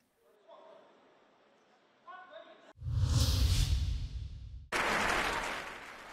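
Applause breaks out in the European Parliament in Strasbourg, a broad loud wash of clapping from a large chamber that swells in and stays strong, preceded by faint murmuring voices.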